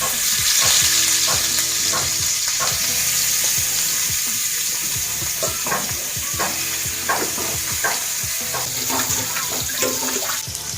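Rohu fish pieces frying in hot oil in a kadai pan, with a steady broadband sizzle and scattered crackles and pops throughout, close and continuous with no talk.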